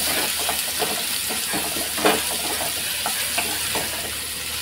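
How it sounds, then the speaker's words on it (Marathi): Chopped onion and curry leaves crackle steadily as they cook in a pan, with frequent close scraping and stirring strokes and a brief louder clatter partway through. "व्यवस्थित आपल्याला मिक्स करून घ्यायचं आहे आणि चांगलं शिजून घ्यायचं आहे कांदा आपल्याला"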